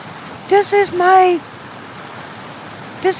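A creek flowing behind a neighbor's house in rural Middle Tennessee, a soft, steady rush of water under short bursts of nearby talk.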